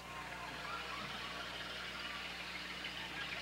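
An old car's engine runs steadily in a 1988 homecoming parade, a faint, even rumbling drone with a hiss of outdoor noise, distant and unchanging, with no talk during it.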